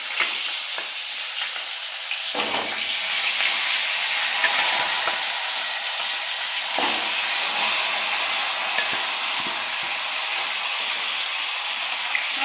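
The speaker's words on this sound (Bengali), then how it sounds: "এবার আমি এই যে মাথাটা দেবো, মাথাটা ভাজবো" Bhola fish head frying in a hot pan, a loud, dense, steady sizzle with hiss and steam, occasional stirring scrapes, close and continuous.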